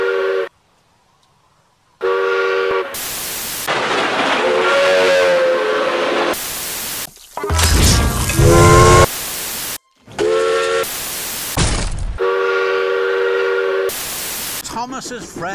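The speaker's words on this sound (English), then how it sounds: "She even tried to whistle like Tom." Several loud steam locomotive whistle blasts and hissing bursts from L&N #152 come in short spurts separated by brief gaps, with voices and noise in between.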